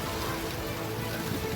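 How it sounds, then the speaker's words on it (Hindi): Heavy rain falling in Didwana, Nagaur, Rajasthan amid flood-like conditions, a steady, dense wash of downpour noise with no breaks and no voices over it. "अब यहाँ इतनी बारिश हो रही है कि बाढ़ जैसे हालात बन गए हैं।"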